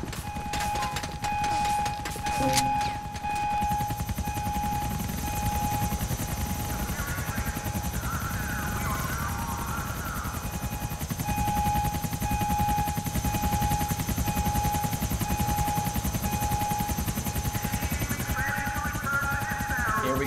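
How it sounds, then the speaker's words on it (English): Police helicopters closing in during a shootout in GTA The Lost and Damned: a loud, steady rotor drone with a sustained high whine runs throughout, swelling slightly at times, with faint game effects underneath. "The helicopters are coming now."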